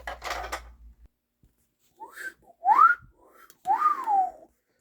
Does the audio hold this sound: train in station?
no